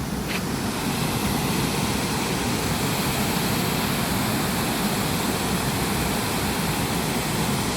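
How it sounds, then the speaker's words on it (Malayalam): The Aruvikkuthu waterfall in Kerala pours in a steady, dense roar of rushing water, loud and close, with an unbroken broadband wash that holds level throughout and no voices over it. "അരുവിക്കുത്ത് വെള്ളച്ചാട്ടം."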